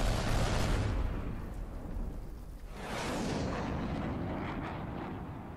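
Airstrike explosions rumble through a destructible city in the game Teardown, with a deep booming blast that rolls and decays, followed by a second heavy roar building and sustaining like distant thunder.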